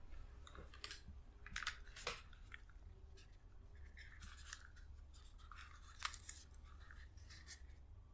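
Quiet keystrokes as a password is typed on a computer keyboard during Lubuntu 18.10 settings changes, a sparse run of soft, irregular clicks over a faint background hum.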